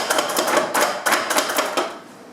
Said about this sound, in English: one of the reasons why I'm chopping this as fine as I can get them chopped